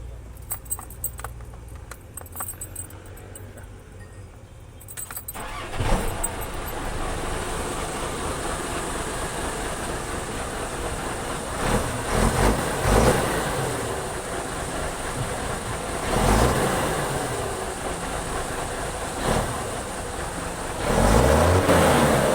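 Keys jingle, then an Isuzu Deca 320 truck engine cranks and catches, settling into a steady rumbling idle with some revving swells over about twenty seconds.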